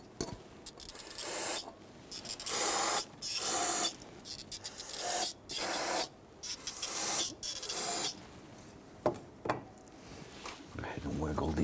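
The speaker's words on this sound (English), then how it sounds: "I'm going to go ahead and spray some solvent down at the base here." Aerosol solvent sprayed in repeated hissing bursts at the base of a fuel injector on a 4.7L V8 Jeep Grand Cherokee engine, several short and long blasts close to the microphone with quiet gaps between.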